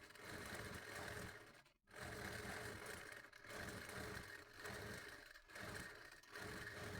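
Sewing machine running a second line of stitching on a fabric potli drawstring bag, one centimetre from the first seam; a steady whirring hum carries through with a brief pause near the start.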